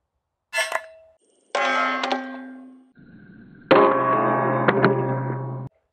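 A Swampfox Kraken red dot optic dropped from shoulder height onto a hardened steel target, giving three sharp metallic clangs, each ringing and slowly fading, the last one loudest and longest.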